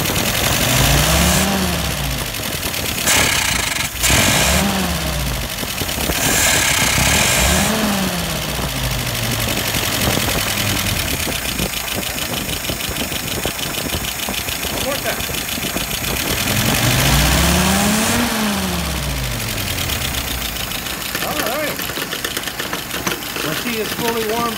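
A fully warmed-up car engine idles loudly up close, broken by several quick throttle blips that rise and fall in pitch, four distinct revs spread across the stretch, with a steady rumbling idle between them.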